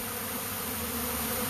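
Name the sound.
honeybee swarm buzzing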